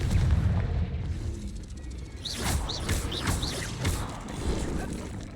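Confringo blast spells fired in the game Hogwarts Legacy: a series of booming, crackling magical bursts with whooshing sweeps, repeating every half second or so over a steady low rumble of game ambience.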